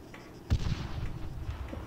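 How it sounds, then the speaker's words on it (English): A single sharp grenade blast in the military shooter Arma 3, heard at middle distance, with a brief thump followed by a rumbling tail and scattered distant battle noise. "Explosion. No, that's Alpha 2 doing the grenading."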